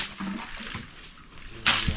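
Water thrown against a wall at a rural village home build site, a brief broad splash burst near the end after a quieter wet, trickling stretch, close by.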